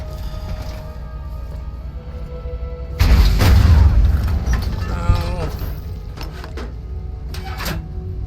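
Missile launcher firing in Fallout 3/New Vegas, a sudden heavy boom that cuts in sharply, then rumbles and decays over a few seconds, followed by scattered lighter clanks and mechanical rattles.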